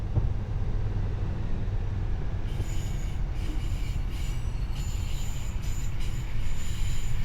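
A Class 153 diesel train running in Train Sim World, a steady rumbling engine and rolling drone throughout, with a faint high squeal and metallic ringing joining partway through, no voices.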